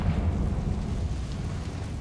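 A Confringo fire-blast spell explodes in Hogwarts Legacy, a sustained loud, low rumbling boom that fills the clip with no voices.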